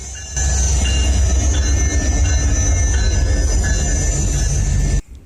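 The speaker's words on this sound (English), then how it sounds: "we got back on the train to continue our journey north to Fairbanks" Train rolling along rails in Alaska with a steady loud rumble and faint metallic squeals, continuous throughout, cutting off abruptly at the end.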